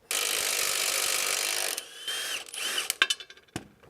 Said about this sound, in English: now we just take out our 3 19mm bolts, 2 up front and 1 back here